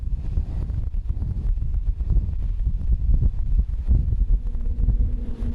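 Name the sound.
strong wind gusting on Union Glacier, Antarctica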